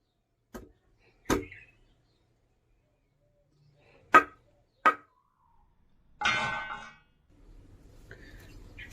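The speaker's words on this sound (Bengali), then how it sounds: "অর্জুন ভাই স্টিকের জন্য লাঠিটা কাটছে" A green bamboo stick is cut to size for homemade chicken kebab skewers: several sharp, isolated knife chops spaced a second or more apart, followed by a short scraping rasp, all close and clear outdoors.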